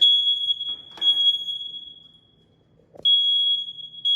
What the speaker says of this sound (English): push them in, you'll hear a beep, that is normal